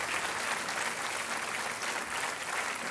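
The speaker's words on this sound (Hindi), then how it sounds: "तालियां बजती रहनी चाहिए देवी और सज्जनों" A quiz-show studio audience keeps up sustained, even applause after a contestant wins a prize. Many hands clap at once at a moderate level, with no break.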